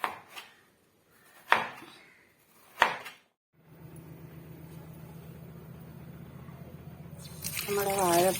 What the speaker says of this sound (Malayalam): അതിന് വാഴപ്പിണ്ടി ഈ വലുപ്പത്തിൽ അരിയുവാണ്